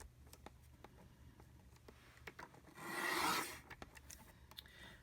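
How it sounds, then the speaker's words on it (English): A Stampin' trimmer blade slides along patterned paper, giving one soft rasping cut of about half a second over quiet background ticks and light handling noises. "I just lined it up on my Stampin' trimmer just enough so I made sure I was cutting the holes"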